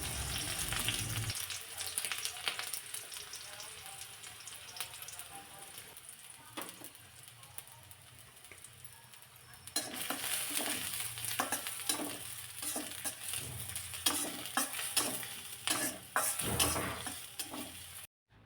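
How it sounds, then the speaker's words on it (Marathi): Chopped onion frying in hot oil, a soft steady sizzle that grows louder and busier midway as it is stirred with scraping and clinking, close by with no talking. "तेल चांगलं तापल्यानंतर सुरुवातीला मी इथे चिरलेला कांदा घालते"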